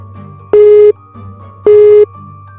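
Repeated busy tone from a phone call that will not connect: two loud, steady beeps of equal length separated by a pause, heard close and clear over a low background hum.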